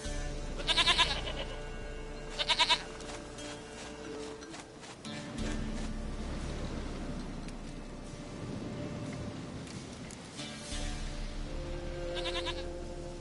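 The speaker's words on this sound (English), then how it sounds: "Goat of mine, dearest, sweetest goat." Goat in a video game letting out two short, loud bleats near the start, then a further bleat toward the end, with ambient game music and rumbling atmosphere filling the gaps.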